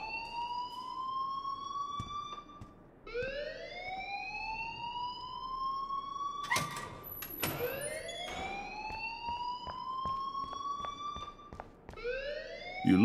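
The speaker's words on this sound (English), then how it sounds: "please turn off that alarm since that's your job" An alarm rings in the video game Life is Strange, a loud repeating electronic tone that sweeps upward and holds steady in cycles of about three seconds, with a burst of clatter partway through.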